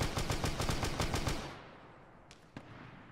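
Automatic gunfire from the video game Arma 3, a rapid burst of about a dozen loud shots in steady rhythm for over a second, then two faint distant single cracks after a pause.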